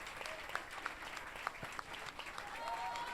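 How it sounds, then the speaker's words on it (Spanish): Faint, distant applause rises from a gathered crowd at a political event, scattered claps and a few sharper hand strikes over a soft murmur, with a brief whistle-like tone near the end. "un fuerte aplauso para él"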